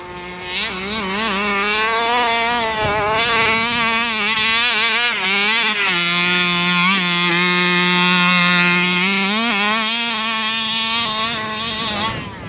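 A Rovan Baja 5B RC car's small petrol engine buzzes at open throttle, its pitch rising and falling as the revs climb and drop. It is loud and close, a continuous high whine with no talk over it.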